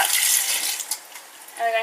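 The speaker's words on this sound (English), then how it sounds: "So let's rinse the lettuce out." Running tap water splashes steadily over lettuce being rinsed in a kitchen sink, loud and close, easing briefly before the flow swells again.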